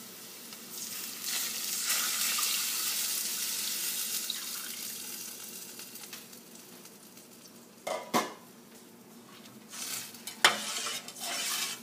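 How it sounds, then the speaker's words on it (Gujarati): Buttermilk, made from yogurt whisked with water, hits a hot pan for spiced leftover flatbread and sets off a broad, hissing sizzle. The hiss gradually fades, and a few sharp clatters of a stirring utensil follow near the end. "तो હવે આપણે એડ કરીશું બટર મિલ્ક।"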